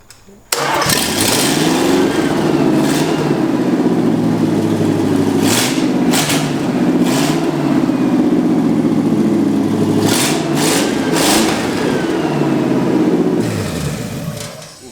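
A small-block Chevy V8 in a 1963 Chevy C10 fires up and idles loud and rough for the whole stretch, with a few brief revs rising over the steady rumble and voices faintly underneath.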